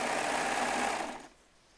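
A Baby Lock Triumph serger stitches at a fast, even whir, running close and loud for about a second before it stops and leaves near quiet.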